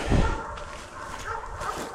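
Dogs at an outdoor kennel near a far back pasture bark in scattered bursts, some distance away and fairly faint.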